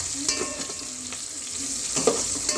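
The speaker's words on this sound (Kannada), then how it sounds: "ಅರಿಶಿಣ ಹಾಕಿದ ಮೇಲೆ 1 ನಿಮಿಷ ಹಿಂಗೆ ಚೆನ್ನಾಗಿ ತಿರ್ಸ್ಕೋಬೇಕು ನೀಟಾಗಿ" Sliced onions with turmeric fry in a pan for a fish curry, giving a close, steady sizzle with soft scraping from stirring throughout the short stretch.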